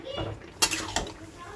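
Chicken with turmeric sautéed in a pot without added water, with a spoon scraping and knocking against the metal twice in quick succession over a low sizzle.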